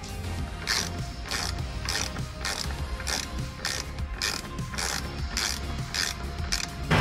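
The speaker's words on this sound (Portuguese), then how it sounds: "E aí dentro tem um parafuso em cada extremidade e eu vou soltar eles." Screws being loosened on a RAM 2500 dashboard panel with a ratcheting tool: rapid bursts of mechanical clicking repeat steadily and close by, with no talk.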